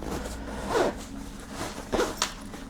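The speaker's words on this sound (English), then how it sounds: "let's zip this back up" A Bellroy 7L sling bag is zipped shut up close in two quick pulls of the zipper, each a short rasping burst over a quiet room.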